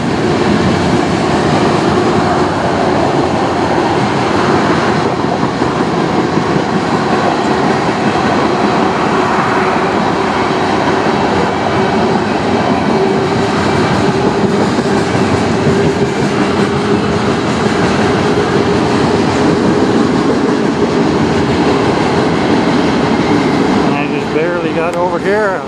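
A CN manifest freight train led by CN 8007 and CN 2501 locomotives, heading to the St Clair Tunnel, rolls past close by with a loud, steady rumble and rhythmic wheel clatter on the rails for the whole stretch.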